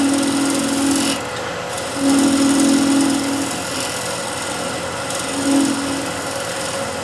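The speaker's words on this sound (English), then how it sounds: "Now I can use the negative rake scraper up on edge to get it more of a sheer scrape again" A negative rake scraper held up on edge shears wood on a lathe, giving a steady rasping whir with three longer scraping passes that swell and fade over a constant motor drone.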